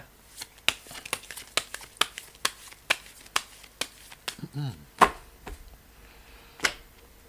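Tarot cards shuffled by hand in a quick series of sharp riffling snaps and flicks, fairly close and moderately loud, with a brief papery flutter midway and a few scattered taps toward the end.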